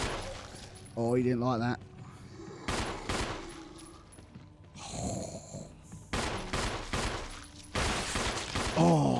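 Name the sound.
gunshots killing zombies in video game Resident Evil Remake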